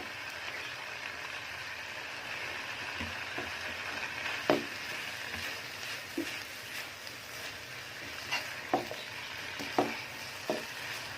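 Boiled rice stirred into frying vegetables and chicken for Chinese fried rice, a steady soft sizzle with a spoon scraping and tapping the pan in irregular clicks, close and fairly quiet, no talking.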